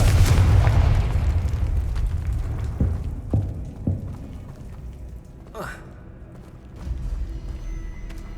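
A Confringo fire spell explodes in the video game Hogwarts Legacy, a loud booming blast that opens the moment and rumbles away, followed by a few smaller thuds and a brief rising whoosh.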